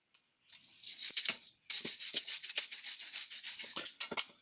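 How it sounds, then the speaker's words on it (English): A die nut is worked down a 1/4 inch UNF thread on a BSA B50 footrest part, producing close rasping metal scrapes in uneven bursts with short pauses, heard alone. "I'll try and run a die nut down it, clean up the thread"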